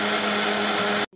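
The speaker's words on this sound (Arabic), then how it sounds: "وهضرب ده في الخلاط كويس جدا الخليط ده" An electric blender whirs loudly and steadily at close range while mixing three eggs, vanilla, a cup of sugar and a cup of oil for biscuits, then stops abruptly.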